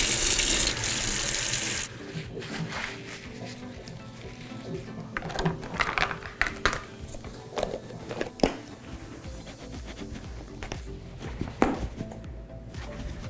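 Hot water runs from a kitchen tap into a sink in a loud, steady gush for about two seconds, then gives way to quieter splashes, dribbles and scattered crackles.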